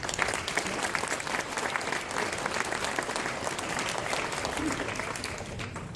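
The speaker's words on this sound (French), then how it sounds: "Je vous demande de les applaudir." Applause from an audience at an evening event presenting artists, a continuous dense wash of clapping heard at moderate distance and fairly faint, steady from start to finish.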